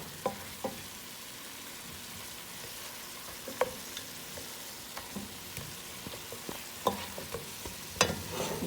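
Chicken fries in a decades-old pot for arroz con pollo, giving a steady low sizzle broken by sharp scraping and clinking stirs at irregular intervals, near and moderately loud, with no one talking.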